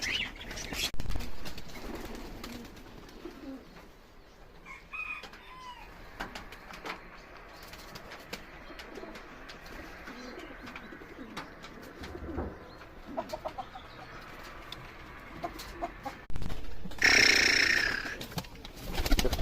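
Pigeons coo softly at a home coop with chickens kept alongside, repeated gentle calls and faint chirps scattered through a quiet stretch, then a brief louder burst near the end.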